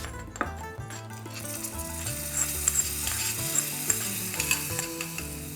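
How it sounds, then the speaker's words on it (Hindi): Hot ghee tempering with cumin seeds and asafoetida is poured into raita, giving a steady close sizzle with a few light clinks of the pan or spoon, no talking. "और इस तड़के को मैं डाल दूँगी इस रायते के अंदर"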